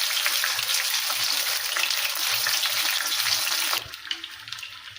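Bajji fritters made from gram-flour batter fry in hot oil with a dense, bubbling sizzle that suddenly drops off near the end, leaving a few faint clicks; no speech.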